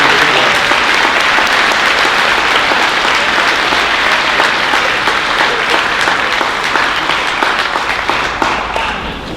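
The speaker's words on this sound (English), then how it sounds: "we share a round of applause for all of our seniors who are in service" Steady, dense applause from family and friends fills a high school class night hall for graduating seniors entering service, loud and sustained throughout before easing slightly at the end.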